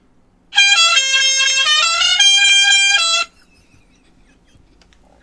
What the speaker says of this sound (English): I made that scary truck sound, the truck horn